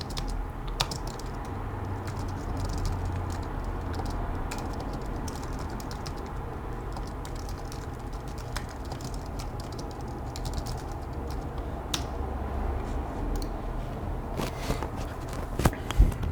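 Steady keystrokes tapped on a computer keyboard while writing in Ukrainian, a continuous patter of clicks over a low room hum, close by and moderately loud, with no talk.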